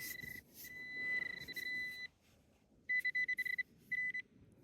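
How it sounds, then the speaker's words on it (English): A metal detector just switched on at the beach gives a steady electronic tone reading 17, then a run of short, loud repeated beeps and a second brief burst, all close and clear with no talking. "First signal at the beach is a 17, and I just turned the detector on"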